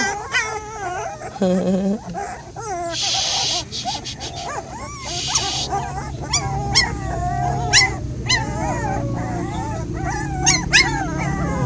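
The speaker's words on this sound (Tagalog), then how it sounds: "Naririnig mo na naman mga tuta, ah." Hungry puppies whine, yip and howl in high, wavering cries, several overlapping close by in irregular bursts throughout, with faint voices briefly underneath.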